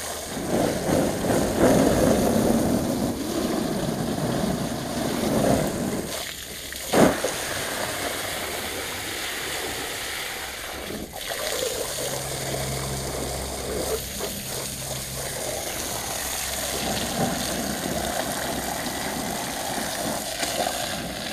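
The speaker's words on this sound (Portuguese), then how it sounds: "Bomba para apanhar água" Pump drawing water out of a swimming pool during cleaning, a steady low mechanical hum mixed with running, splashing water, continuous for about twenty seconds with a brief thump near the seven-second mark.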